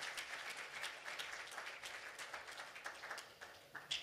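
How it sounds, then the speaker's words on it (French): An audience applauds a panelist at a conference on digital transformation and governance, a dense and steady wash of many hands clapping, heard from a distance and fairly faint. "Je vous demande également de l'applaudir."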